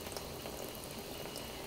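Running water rinses a soapy brush under a tap, a steady, faint hiss and splash with no pauses.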